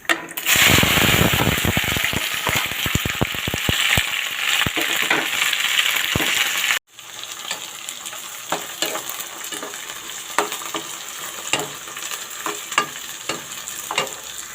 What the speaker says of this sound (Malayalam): അത് നല്ല ബ്രൗൺ കളറാകുന്നത് വരെ വറുത്ത് കോരിയെടുക്കുക